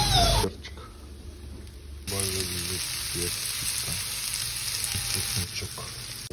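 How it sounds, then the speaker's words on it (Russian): Marinated meat sliced in rings sizzles and fries in a pan with peppers, carrot and onion, a loud continuous hiss with stirring scrapes and one sharp cut in level near the start. "Красивая жарочка у нас получается."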